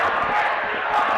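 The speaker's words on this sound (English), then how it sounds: "And the crowd seems to be chanting." A crowd chants at a Niles North Vikings vs. Glenbrook South Titans boys basketball game, a loud, continuous wash of massed voices swelling through the gym for a brief moment.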